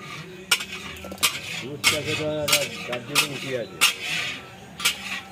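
A metal spatula stirring and a ladle scooping food in a large pot of temple offering, with sharp irregular metallic clanks and scrapes close by, a voice speaking briefly under the clatter.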